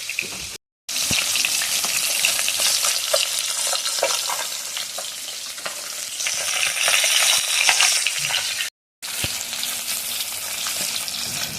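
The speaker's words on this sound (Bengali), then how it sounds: "তেলটা কিন্তু গরম হয়ে গিয়েছে আর মাছটাকে খুব সুন্দর করে ভেজে নেবো" Pieces of local freshwater fish fry in hot oil, giving a loud, dense, continuous sizzle that crackles steadily, broken by two short moments of silence.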